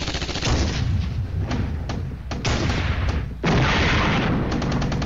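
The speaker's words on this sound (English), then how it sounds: "Enemy artillery hits my motorized rifle again, destroying a machine gun squadron" Artillery fire in a wartime strategy video game, with loud booming blasts and dense rapid gunfire that pounds continuously throughout.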